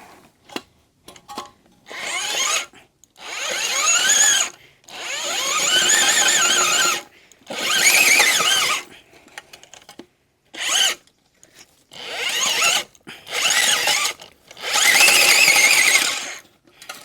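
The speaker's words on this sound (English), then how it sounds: "auger this hole a little bit deeper" A power auger bores a planting hole in garden soil for a Japanese maple, roaring in repeated bursts of one to two seconds separated by brief quiet pauses, loud and close.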